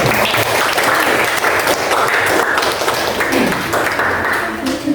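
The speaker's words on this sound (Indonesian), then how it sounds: "Kita kasih aplaus." A classroom full of students applauding together, a dense, loud and continuous burst of clapping that holds steady throughout, with voices mixed into the crowd.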